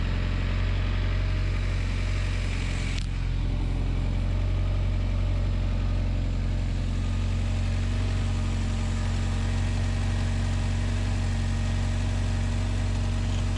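A turbocharged Honda Accord engine idles steadily for the whole stretch, a constant low rumble with a smooth, even hum and no voices.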